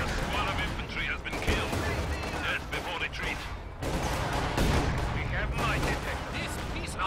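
Tank cannons fire repeatedly at a KV-8 tank in a Company of Heroes 2 battle, with heavy booms and gunfire over dense battlefield noise under continuous commentary.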